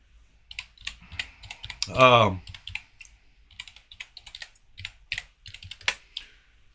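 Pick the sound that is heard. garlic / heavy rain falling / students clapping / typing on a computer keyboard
typing on a computer keyboard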